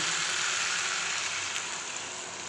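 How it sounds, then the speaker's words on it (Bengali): Water poured into a pan of vegetables as they cook, giving a steady hissing sizzle that holds evenly throughout, with a small clatter at the very end. "এবার আমি জল দিয়ে দেব"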